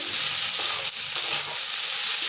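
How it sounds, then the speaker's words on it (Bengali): Green peas fry in a hot pan with a constant, close sizzling hiss and faint stirring scrapes throughout. "এখন মটরশুঁটিটা 2 মিনিট ভেজে নেব।"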